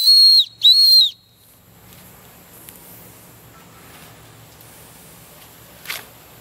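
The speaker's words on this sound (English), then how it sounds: "At the end of the lanyard, it has an emergency whistle." Two sharp, loud blasts from an emergency whistle on the lanyard of a Gerber Bear Grylls Ultimate knife, back to back at the start, then near silence with a faint click.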